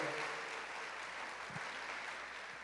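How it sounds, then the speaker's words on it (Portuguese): A church congregation applauds in a steady patter of many hands clapping, moderately loud and sustained without a break. "pode aplaudir o Senhor"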